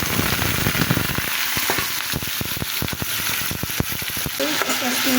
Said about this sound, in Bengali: তো এটা আমি একসাথেই দিয়ে দেব গরম তেলের মধ্যে